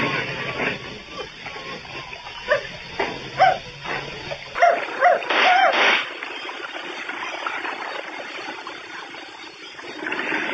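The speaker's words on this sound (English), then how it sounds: "what the hell's the dog doing here anyway?" A dog barks, yelps and whimpers in a radio drama scene, several sharp yelps bunched near the middle, with murmured voices and a steady high electrical whine underneath before the sound drops to a quieter background.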